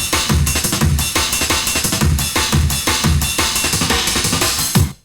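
Electronic drum track played clean, without a trance-gate plugin: a loud, steady driving beat of punchy kicks and bright hi-hats repeating in an even rhythm, stopping abruptly near the end.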